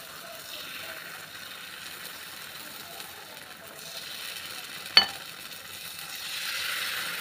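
Rava dosa batter sizzles in oil on a hot pan, a faint, steady frying hiss with one brief sharp clatter partway through.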